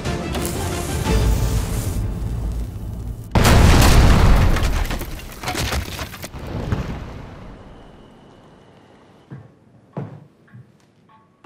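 A deep, heavy boom erupts and roars for a few seconds, then fades into rumbling debris and scattered clatter.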